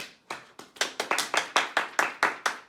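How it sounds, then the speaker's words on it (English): Clapping for reception children at a school celebration assembly: a quick run of about a dozen sharp, close hand claps in a steady rhythm, with no talk. "Shall we give these reception children a clap?"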